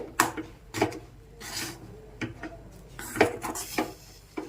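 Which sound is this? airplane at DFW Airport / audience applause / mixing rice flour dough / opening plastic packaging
mixing rice flour dough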